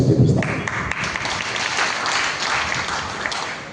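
An audience clapping in a church hall during a charismatic family festival, a dense steady patter of many hands, moderately loud and close, with voices mixed in.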